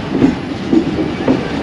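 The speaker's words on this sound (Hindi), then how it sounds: "लोकोमोटिव लीड कर रहा है और शायद उसका नंबर 8221 है" A passenger train led by a locomotive rolls through a junction station, its wheels giving a loud, close, rhythmic clickety-clack with evenly spaced thumps over the rail joints, heard without talk.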